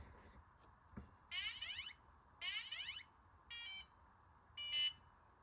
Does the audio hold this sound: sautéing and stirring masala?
no